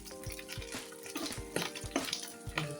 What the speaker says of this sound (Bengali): লোটে মাছগুলি ভেজে নিই একটু কড়া করে।